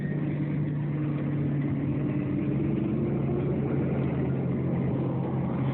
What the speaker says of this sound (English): the stalker truck moves out